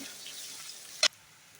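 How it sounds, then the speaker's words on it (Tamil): Onions sautéing in oil with garlic and curry leaves, a faint steady sizzle close by, broken by one short sharp clatter near the end before it goes quieter. "அடுத்து வெங்காயம் சேர்த்துக்குங்க நல்லா எண்ணெயில் வதக்குங்க"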